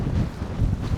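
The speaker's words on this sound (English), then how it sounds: "Right, it's a bit windy out here." Steady wind buffeting a microphone, low rumbling gusts swelling and easing throughout with no voices.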